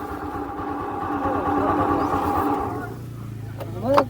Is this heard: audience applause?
no